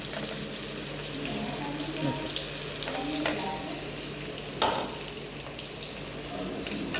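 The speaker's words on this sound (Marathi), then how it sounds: "आता कांदा चांगला भाजते" Onions sizzle and brown in a pan for a cashew curry, a soft, steady frying hiss with occasional clinks and stirring taps, quiet overall.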